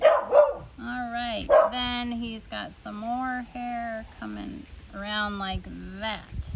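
A pet dog named Lucky lets out a few short barks and yips, mostly near the start, close by and partly buried under someone talking steadily.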